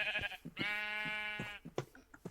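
Sheep in a video game let out a long, wavering bleat, fairly faint, with shorter bleats before and after it.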